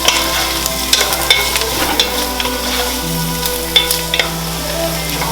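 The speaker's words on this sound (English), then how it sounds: "I'm going to go ahead and put the garlic and fresh herbs in there, and I'm going to cook that for about 5 minutes" Garlic and fresh herbs sizzle in a pan for lobster bisque, a loud close frying crackle with sharp stirring clicks and scrapes of a utensil against the pan.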